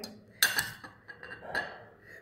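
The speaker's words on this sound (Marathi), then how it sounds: "इथे आपण हे थोडं थोडं असं बरणीमध्ये भरत जायचं" Spiced pickle mix is spooned bit by bit into a jar, with a few sharp clinks and scrapes of a utensil against the jar at irregular intervals, close and fairly quiet.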